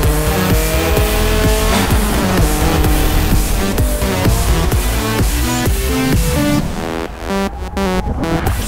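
Rally cars race through Colorado stages in the Forza Horizon video game: loud, continuous engine roar and revving with tire squeal and skidding, dense and close throughout before a brief dip near the end.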